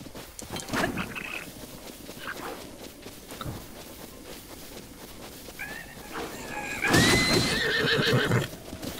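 A horse whinnies loudly in a rising, shaky call near the end of this clip from the video game Breath of the Wild, with scattered thumps and rustling before it.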